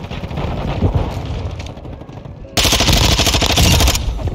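Automatic gunfire in Call of Duty: Modern Warfare 2 multiplayer, sustained bursts of rapid shots that swell louder and denser midway, with explosions and game noise behind.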